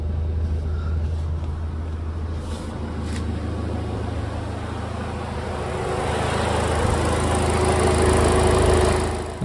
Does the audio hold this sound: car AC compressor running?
yes